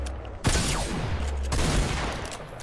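Gunfire in the Fortnite video game comes as two sharp bursts about a second apart, each a rapid cracking volley that fades quickly, fairly close with no talk over it.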